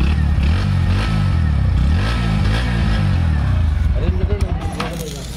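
A Bajaj Pulsar NS 125 with an underbelly exhaust idles and revs nearby, giving a deep, bassy, pulsing engine note that rises and falls, then sputters into uneven chugs as it shuts off.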